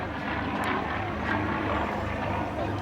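At an airshow, a Hawker Hurricane Mark 12 fighter powered by a Canadian Rolls-Royce Merlin 25 engine of about 1,300 horsepower passes with a moderately loud, sustained engine drone that swells slightly midway.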